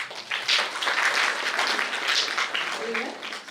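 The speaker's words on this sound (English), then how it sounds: "A big clap for him." An audience at a pharmacy college event applauds in a sustained burst, with clapping swelling and fading across the moment while voices speak over it.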